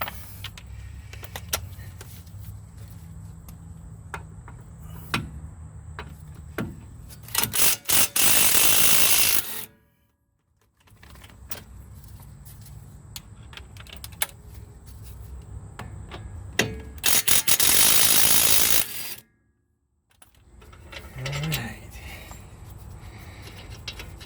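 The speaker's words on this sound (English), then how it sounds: "we're just going to impact those right off of there" Impact wrench removing wheel bolts from a 2004 Dodge Ram 1500 during a front wheel bearing job, with two loud sustained whirring-rattling bursts around other clanks and mechanical noise in a garage.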